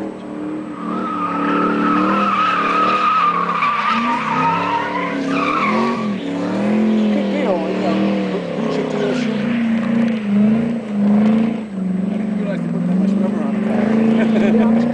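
A race car engine revs and wails continuously with rising and falling pitch and tire squeal as it scrubs in new Hoosier tires, loud and close, with a voice talking over it.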